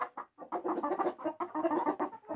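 Several young Isa Brown hens at a poultry farm cluck continuously and close by, in a busy, overlapping chatter with no talk.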